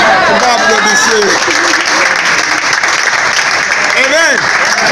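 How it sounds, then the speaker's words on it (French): A congregation at a prophet's church service breaks into loud, sustained applause, a thick crowd roar of clapping with voices rising and calling out over it throughout. "On va applaudir."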